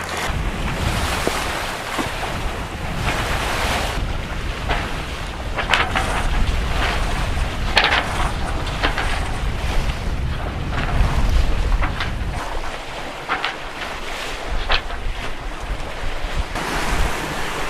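Steady waves and offshore wind at sea, heard from aboard a sailboat motoring on one working engine; continuous washing surf and wind buffeting the microphone, with no talk.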